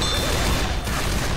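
Gunfire in the zombie shooter Left 4 Dead 2's Blood Harvest campaign, a loud, dense rattle of rapid shots blending into a continuous roar for the whole moment, with no talk.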